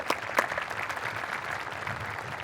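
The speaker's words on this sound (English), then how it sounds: "There's a little applause." Steady audience applause at a college inauguration ceremony, a broad wash of many people clapping at moderate distance, even and sustained throughout.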